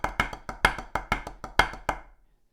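Drum crossover taps in a practice drum-chops pattern, with the note after each accent struck too hard: a fast, close run of crisp strokes with uneven accents that stops abruptly, leaving a brief quiet tail.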